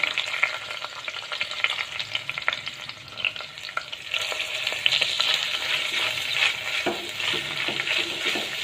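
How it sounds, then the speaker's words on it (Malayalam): Chopped onions with cinnamon, cloves and cardamom fry in hot oil, giving a steady, close sizzle with stirring scrapes throughout and no voices. "ഓയിൽ ചൂടായതിന് ശേഷം അതിനകത്തേക്ക് കറുവപ്പട്ട ഗ്രാമ്പൂ ഏലക്ക ചേർത്ത് കൊടുക്കാം രണ്ട് സവോള ചെറുതായിട്ട് അരിഞ്ഞത് ചേർത്ത് കൊടുക്കാം"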